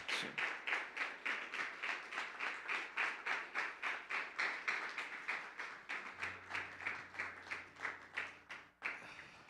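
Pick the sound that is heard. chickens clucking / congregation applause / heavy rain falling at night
congregation applause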